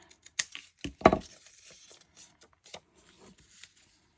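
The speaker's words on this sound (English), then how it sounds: "So I'm just going to go old school and just cut it with my scissors." Paper being cut with scissors at a sketching desk: a few quiet, close crisp snips and rustles in the first second and a half, then softer scattered paper handling.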